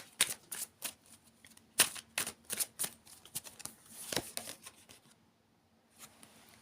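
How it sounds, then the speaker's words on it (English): Tarot cards being shuffled in a series of crisp riffling snaps and soft slides, close and fairly loud, with short bursts separated by brief pauses and no talking. "So we'll get out some cards there."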